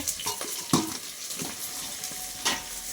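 Potatoes frying with a fish head in a pan over a wood-fired clay stove, a soft steady sizzle broken by a few clinking stirs of a utensil, close and fairly quiet.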